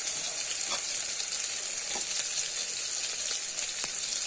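Onion and tomato fried with ginger-garlic paste in a pan give a loud continuous sizzle, with a few scraping stirs of a spatula breaking through.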